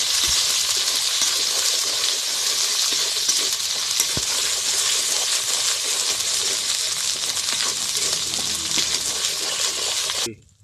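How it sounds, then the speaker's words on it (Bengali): Steady, loud sizzling of spice paste with turmeric and cumin frying in a pan, continuing evenly with faint stirring scrapes before stopping abruptly at the end. "দিয়ে মশলাটাকে ভালো করে কষিয়ে নেব"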